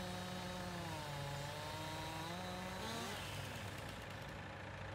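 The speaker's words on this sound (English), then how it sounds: "Look how hard the chainsaw needs to fight to get through there." A chainsaw in a farming video game labours through a log on a Smokey Mountain logging job, its engine droning loud and steady with pitch rising and falling as the chain bogs down and recovers.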